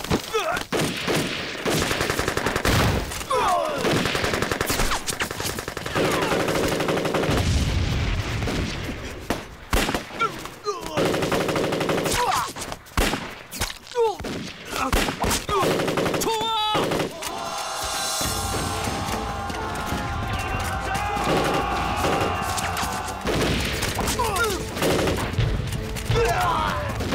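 Gunfire in a wartime kung fu drama set against Japanese troops, with bursts of machine-gun shooting and single shots rattling loudly over several seconds, mixed with shouting voices and chaotic action noise.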